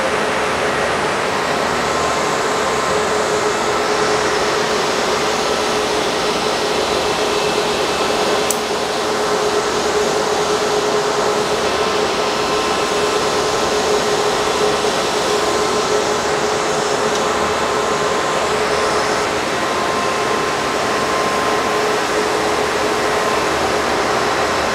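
An Iceriver KS3M Kaspa ASIC miner runs with its fans whirring in a constant, loud, steady drone and a faint tonal hum, with no talking.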